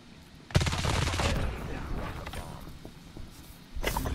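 A burst of rapid gunfire from an MG42 machine gun in the mobile shooter Call of Duty Mobile, one loud volley followed by fainter shots, with another burst at the end.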